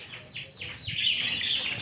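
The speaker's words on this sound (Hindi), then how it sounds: "ये देखा दोस्तों अभी हमने दाना सही डाला भी नहीं है और ये चूज़े आ गए" Chickens cluck and chicks cheep in quick, overlapping calls close by as feed is scattered, the chirping growing busier toward the end.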